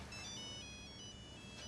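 A telephone ringing indoors in a house, a steady electronic ring tone repeating with a bright warble, quiet and alone with no voices over it, just before someone answers.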